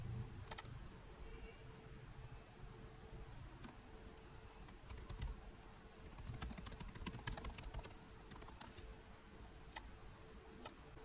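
Keys tapped on a computer keyboard while a name is entered, in quiet irregular bursts of soft clicks over a steady low background hum, without talk.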